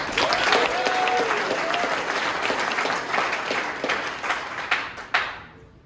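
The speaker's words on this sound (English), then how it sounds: "round of applause" An audience at an improv class show applauds loudly with dense, sustained clapping that thins out toward the end, a few scattered claps trailing off.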